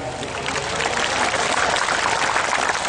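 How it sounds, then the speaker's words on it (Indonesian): Crowd applause at an outdoor religious gathering with devotional singing, a dense, even roar of many hands clapping that holds steady throughout. "Tepuk tangan teman-teman."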